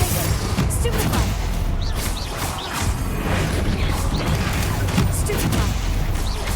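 Combat spell blasts in Hogwarts Legacy, a rapid barrage of booming hits and crashing impacts layered over a dense roar, loud and continuous, with a voice calling out spells between the hits.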